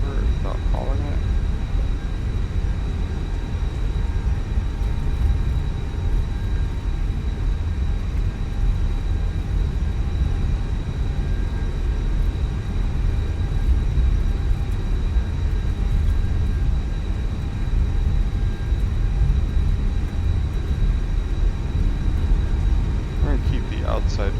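Airplane engine noise in Microsoft Flight Simulator 2024, a steady, loud broadband drone with a faint constant whine holding evenly throughout, with occasional talk under it.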